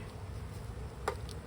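Honeybees from a swarm trap drone steadily and close during the first inspection of a Layens hive. A single bee zips past briefly over the continuous buzz.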